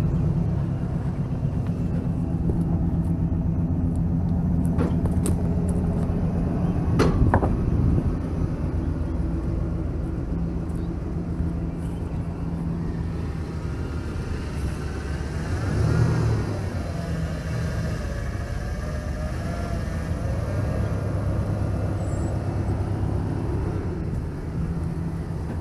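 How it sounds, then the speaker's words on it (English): At a drainage ditch site, an excavator loads dirt into the back of a dump truck with a steady diesel rumble, and occasional clunks and scrapes come from the bucket and bed. "loading it in the back of the dump truck"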